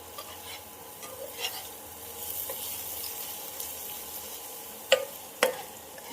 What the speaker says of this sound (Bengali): আদা, রসুন, পেঁয়াজটাকে ভালো করে কষে নিয়েছি।